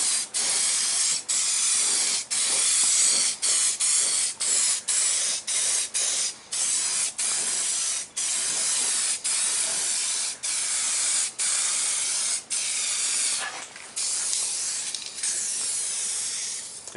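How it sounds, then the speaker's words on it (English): Primer sprayed from an aerosol can into the rusty body cavities of a Rover Mini Cabriolet under restoration: loud, close hissing bursts, many short sprays separated by brief gaps, with no voices. "so we're going to spray plenty of primer in there"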